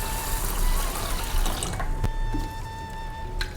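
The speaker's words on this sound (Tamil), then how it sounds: "இதில் தண்ணி ஊற்றி" Water pours steadily into a bowl of basmati rice, a continuous splashing and trickling stream with a few small clinks near the end.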